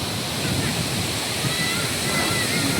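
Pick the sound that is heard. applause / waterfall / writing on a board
waterfall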